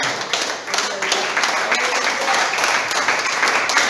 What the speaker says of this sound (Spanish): Entonces, den un aplauso al Señor, aplauso.